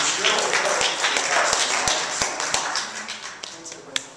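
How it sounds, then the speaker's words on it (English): A small meetup audience at an agile user group claps for a speaker being introduced, a close, dense patter of hands with a few sharper individual claps standing out as it tapers off. "please give a round of applause for Sam"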